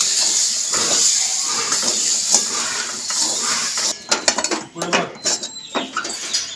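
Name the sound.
stirring and frying food in a pan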